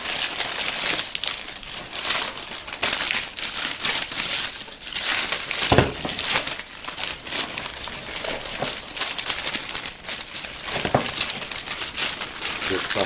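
Thin plastic bag crinkling and rustling steadily while covering a freshly baked loaf of bread at home, close and fairly loud, with dense continuous crackles and a few sharper crunches and no speech.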